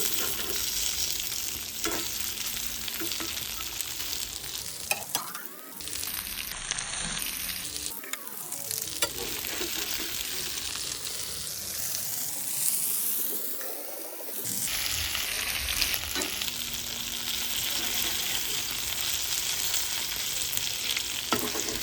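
Surmai kingfish pieces frying in a pan after being flipped: a loud, continuous hiss of sizzling oil that swells and dips, with a few utensil taps and no talking.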